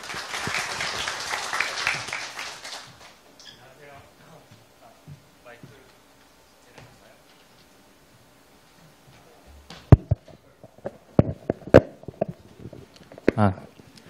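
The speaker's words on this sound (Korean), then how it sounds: "우리 뜨거운 박수로 김서준 대표 환영해 주시길 부탁드립니다." Brief burst of audience applause welcoming the head of a Korean blockchain firm at a conference session, fading within about three seconds, followed by quiet room noise and a few sharp knocks as the speaker settles in.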